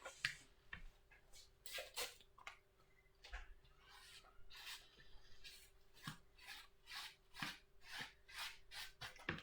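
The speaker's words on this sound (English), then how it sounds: "I'm scraping over the top of my painting and I'm scraping off the excess paint" Excess paint being scraped off the top of a painting, faint rhythmic rasping strokes repeated at a steady pace, close and quiet with no talk.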